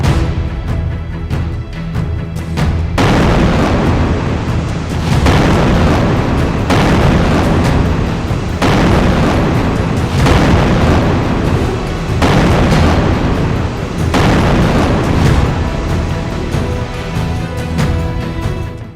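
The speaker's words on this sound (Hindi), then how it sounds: "इजरायल के बेहद भारी और ताकतवर बम फिलिस्तीनियों के चीथड़े उड़ा रहे हैं" Heavy bomb explosions strike Gaza, a loud, dense, continuous rumble with several deep booms surging every few seconds, and no voices heard over it.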